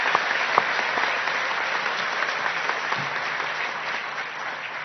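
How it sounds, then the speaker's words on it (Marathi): Sustained applause from an audience at a Marathi political speech, steady and dense for the whole stretch, with no talk over it. "मला वाटतं आपण खूप जोरदार टाळ्या वाजवल्या पाहिजे"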